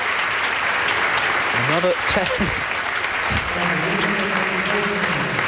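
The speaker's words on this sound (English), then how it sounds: "Great round of applause from this very knowledgeable audience here today." An audience at a women's bowling World Cup final applauds steadily and loudly, with a commentator's voice talking over the clapping partway through.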